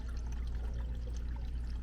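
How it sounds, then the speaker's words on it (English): Water from a 100-gallon RV gray water tank drains out in a steady, even rush, a quiet continuous pouring and trickling with no pauses and no voices. "so it takes a little while to dump."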